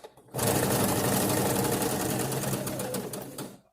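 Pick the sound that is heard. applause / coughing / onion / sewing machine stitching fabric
sewing machine stitching fabric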